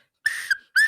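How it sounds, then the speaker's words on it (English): A referee-style whistle blown twice at a live theatre show, two sharp shrill blasts close together, the first longer with a brief warble near its end, the second short and clean. "Whistle!"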